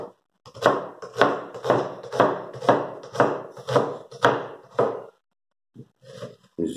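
A knife chops an onion very finely, striking in an even rhythm of about nine crisp, close strokes. After a short pause, a few more quieter chops follow.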